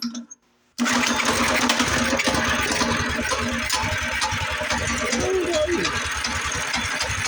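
A cheap Baja mini pit bike engine kicks in abruptly and runs loud and buzzing under throttle, a dense continuous rattle close to the recorder.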